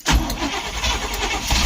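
A 1972 Barth motorhome engine cranks and catches, settling into a loud, steady, rough running rumble close by, with a couple of brief sharper bursts near the end.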